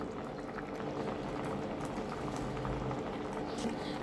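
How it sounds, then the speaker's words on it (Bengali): A koi fish curry bubbles steadily in a pan on the stove, with a close, continuous boiling and a soft patter of bursting bubbles throughout. "তরকারিতে এই যে আমার জাল উঠে গিয়েছে"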